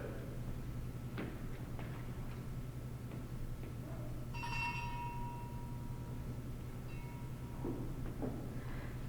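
A small servant's bell rings once with a bright, ringing tone over a steady background hum in a quiet house setting, with no talk during the ring.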